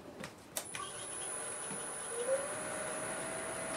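A freshly sharpened half-inch swept-back bowl gouge cuts into Spanish olive wood spinning on a lathe without tailstock support, giving a steady close scraping hiss after a few sharp knocks, with a high whine running through it.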